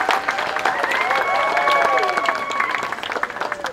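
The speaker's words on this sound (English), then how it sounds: "Round of applause, please, people, for the beautiful couple." A crowd applauds the bride and groom, Siosaia and Uinita, at their wedding reception, a steady wash of clapping lasting several seconds under a sustained tonal voice or music.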